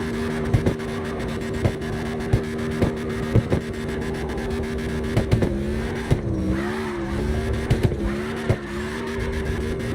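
A Dodge Hellcat drifting in the video game CarX Drift, with a loud, steady engine drone that wavers in pitch as the car slides, punctuated by repeated thuds and bursts, up close with no voices.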